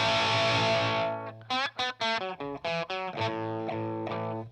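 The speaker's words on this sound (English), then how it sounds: "So it's really a great overall distortion sound." An electric guitar runs through a distortion pedal, ringing a sustained chord that fades and then cuts into a series of short, punchy chord stabs, loud and up front with no one speaking.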